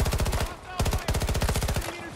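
Rapid automatic gunfire in Battlefield 2042, a continuous rattling stream of shots with brief gaps between bursts, loud and close.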